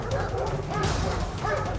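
A police service dog at the Udmurtia interior ministry canine training center barks and yips repeatedly during daily training, fairly close and loud against outdoor background noise.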